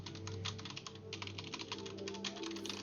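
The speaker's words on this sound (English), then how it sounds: "And Devin is typing." Rapid clatter of keys on a computer keyboard, close and continuous, a quick irregular run of taps with a faint hum beneath and no talking.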